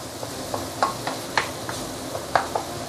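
Chili paste sautéed and stirred in oil in a pan: a continuous sizzle with a spatula scraping and tapping the pan at an irregular rhythm, close up.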